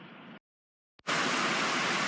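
Rain pours outside in a dense, steady hiss. A short burst is followed by about half a second of silence, then loud continuous rainfall fills the rest.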